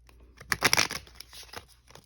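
A deck of tarot cards is shuffled by hand, giving a quick burst of riffling flutter and soft slaps up close, then trailing off into lighter shuffles, with no talking.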